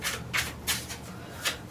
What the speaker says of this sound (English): First, I should probably shuffle these a bit.